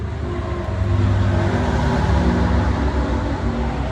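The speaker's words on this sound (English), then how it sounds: "Sorry about the noise, I'm right next to the freeway." A constant low roar of heavy freeway traffic rushing past nearby, dense and rumbling with no pauses and no voices.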